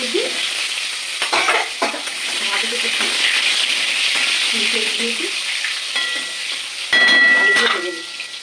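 Salted cut potato pieces fry in oil for khichuri, giving a steady close sizzle and hiss that continues throughout, with brief stirring noises and a voice faintly audible in places.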